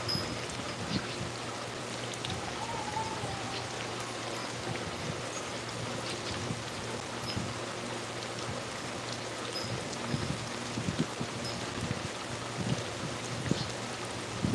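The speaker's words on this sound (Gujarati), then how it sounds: "તો અમારે જો કંઈક આવો વરસાદ છે અહીંયા" Steady rain patters on surfaces nearby, with scattered sharper drips standing out over the constant soft hiss.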